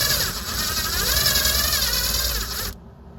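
A power drill spins in reverse at moderate speed to extract a stripped Torx screw, a steady high whirring grind with metallic texture that runs for a few seconds and then cuts off abruptly.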